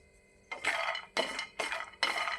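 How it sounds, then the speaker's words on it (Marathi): Peanuts being dry-roasted in a pan over a low flame rattle and clink against the metal in four quick bursts, each about half a second long, with quiet gaps between. "तर आता आपण शेंगदाणे पण असेच भाजून घेऊया."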